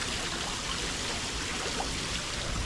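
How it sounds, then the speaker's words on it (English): Hotel jacuzzi jets and pumps push water in a steady rushing, bubbling wash that stays even and unbroken throughout, with no voices. "those pumps are running once it's open"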